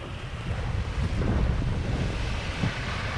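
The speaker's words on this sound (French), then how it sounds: "Vous entendez le vent?" Strong wind roars steadily across an open sea aboard a sailboat, buffeting the microphone, with waves washing beneath it and a gust swelling briefly.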